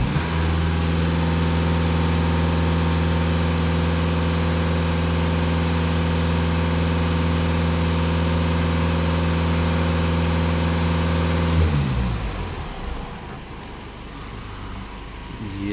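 Volkswagen Passat B6 or B8 engine idling, a steady low drone with even harmonics for about twelve seconds, then the engine note drops away into quieter background noise.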